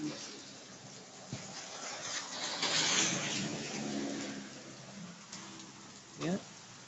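Hail and pouring rain in a thunderstorm in Corsicana, Texas, beside a backyard pool: a steady broadband hiss with scattered sharp impacts and one louder knock near the end, with speech faintly audible over it.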